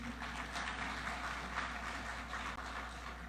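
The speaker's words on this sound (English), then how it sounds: "Give them a round of applause, please." A crowd claps steadily at a formal dialogue event, a broad patter of applause heard from a moderate distance, without a voice over it.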